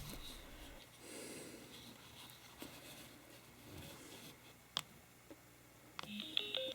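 Sena Prism action camera paired with a Sena 20S headset, powering on with a few short electronic beeps near the end, after quiet handling noise.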